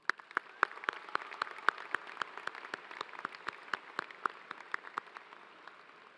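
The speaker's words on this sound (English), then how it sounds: "let's give him a round of applause" Applause at an engineering commencement ceremony, with distinct individual claps from a modest crowd in a steady irregular patter, fairly close and clear, and no talking over it.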